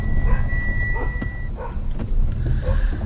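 Several dogs bark, yip and whimper excitedly at close range in a short repeated series of calls, heard over a low rumbling background inside a vehicle.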